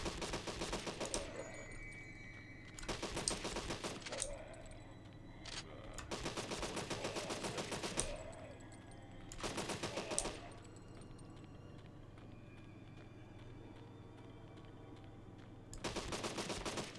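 Rapid automatic gunfire in the zombie survival game Deadly 30, fired in several separate bursts of roughly one to two seconds each, with quiet pauses between them, fairly faint overall.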